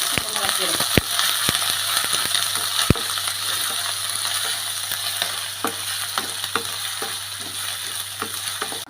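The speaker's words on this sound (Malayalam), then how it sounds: "നമ്മുടെ ഇഞ്ചിയും വെളുത്തുള്ളിയൊക്കെ മൂത്ത് വന്നിട്ടുണ്ട്" Crushed ginger and garlic fry in masala for a Kerala beef curry, a steady close sizzle with scattered clicks and scrapes of stirring, while someone talks over it.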